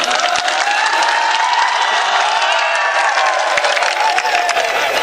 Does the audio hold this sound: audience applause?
yes